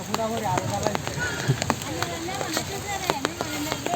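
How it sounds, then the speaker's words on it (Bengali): Scattered raindrops begin pattering on surfaces in a village, sharp irregular ticks over a soft ambient bed, while a person talks and birds chirp faintly. "এই যে বৃষ্টির ফোঁটা পড়া শুরু করছে"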